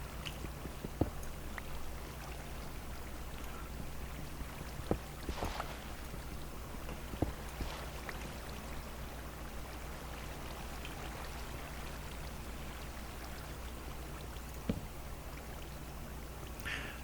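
Water flows steadily down a Minecraft waterfall as a constant low rushing wash, heard alone with a few faint ticks scattered through it.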